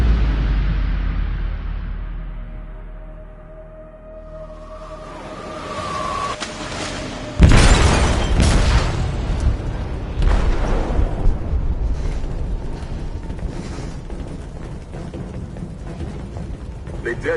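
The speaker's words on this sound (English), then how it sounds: "They detonated an explosive in the hold." An explosive detonates in a ship's hold in a video game, with a deep building rumble leading to one sudden loud blast, followed by sustained heavy rumbling and debris noise.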